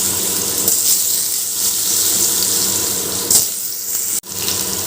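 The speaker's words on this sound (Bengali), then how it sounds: "এবার আলুগুলো ভালো করে ভেজে নেব" Cut potatoes frying in hot oil in a pan, a continuous loud hissing sizzle with no voices, a soft knock partway through and a brief sudden dip just before the end.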